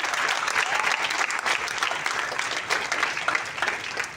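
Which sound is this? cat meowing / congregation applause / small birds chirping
congregation applause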